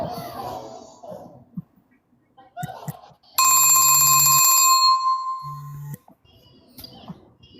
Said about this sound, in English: Sorry, my phone keeps ringing.